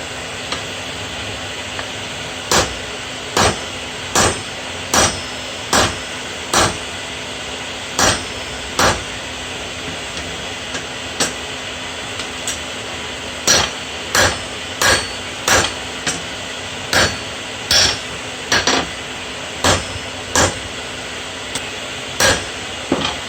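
A heavier hammer strikes a hot seax blade on the anvil in a run of sharp, ringing blows, spaced roughly a second apart in short bursts with brief pauses, over a steady forge hiss.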